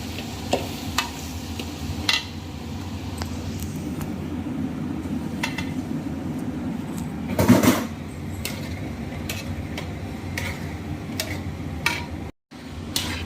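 Gongura chutney sautéing in oil, with a continuous sizzle and repeated ladle scrapes and taps against the pan. A louder burst of sizzling comes midway, and the sound drops out briefly near the end.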